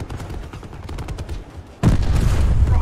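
Light machine gun fire from a Titan LMG in Call of Duty Black Ops 4 rattles in steady rapid bursts, then swells louder and denser near the end, with heavy low booms under the shots.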